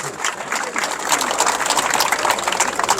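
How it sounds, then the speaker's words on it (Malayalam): Spectators at a tug of war match during a Kerala festival break into sustained, crowded clapping that stays steady and fairly close for the whole stretch, with no talk over it. "കായിക പ്രേമികൾ നല്ല നിറഞ്ഞൊരു കയ്യടി രണ്ട് ടീമിനും സമ്മാനിച്ചു"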